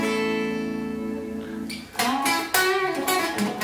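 Electric guitar with its volume backed off for a cleaner tone through an XVive U2 wireless system: a held chord fades, then several brighter strums follow in quick succession, close and moderately loud.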